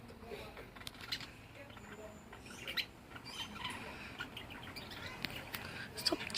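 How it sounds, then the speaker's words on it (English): A pet parrot hanging from the ceiling chirps and squawks in short, scattered bursts, sharp and fairly close, over a quiet room background. "Stop chirping so much."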